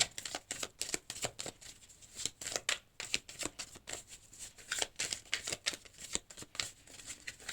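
Oracle cards shuffled by hand for a reading, a rapid run of crisp riffling flutters and slaps in quick uneven bursts, close and fairly loud, with no talking.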